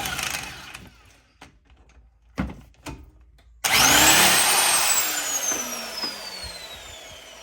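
After a few scattered knocks and clicks, an impact wrench bursts into a loud whirring whine on a strut bolt of a lowered Lincoln, then winds down gradually over a few seconds, close by.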